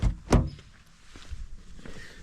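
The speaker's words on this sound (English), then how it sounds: "Now I tried to open the door and it didn't." Door of a 2024 Honda Civic Sport opened with a single sharp thunk near the start, followed by faint shuffling and light handling noises.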